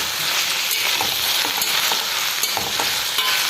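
Cut green chillies and curry leaves stirred in hot oil in a frying pan, a bright steady sizzle with repeated scraping strokes of the spatula, close and alone.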